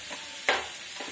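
Spiced vegetable momo filling stirred gently in a hot pan, a steady soft sizzle with one brief scrape of the spoon midway, close and short.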